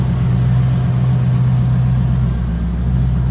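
A 1999 Shelby Series 1 sports car idling with its engine bay open, a steady, low, even rumble heard close and alone, with no revving.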